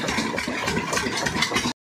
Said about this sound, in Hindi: ये बाइक लेके जा रहे हैं